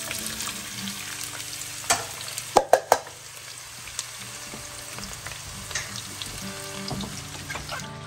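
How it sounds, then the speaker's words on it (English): Coarsely chopped onions hit hot grease and fry with a steady crackling sizzle, with a few sharp clanks of a utensil on the pan near the start and softer clatter afterward. "I like to heat the grease in to cook my onions."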